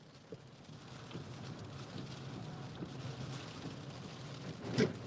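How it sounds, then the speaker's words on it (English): Continuous hiss of rain falling steadily, distant and fairly quiet, with a few faint drips and a soft rumble underneath. "Yeah, it's raining bad."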